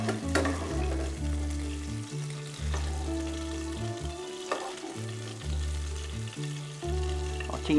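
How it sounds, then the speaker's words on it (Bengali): Prawns sizzling as they fry in hot oil in a home kitchen, a continuous crackling hiss with stirring noises, while a steady low tonal music bed plays underneath. "চিংড়িটা ভাজা হয়ে গেছে, কালার হয়ে গেছে"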